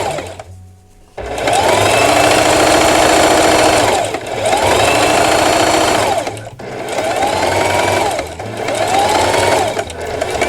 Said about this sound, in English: we're gonna run that zipper right along that foot again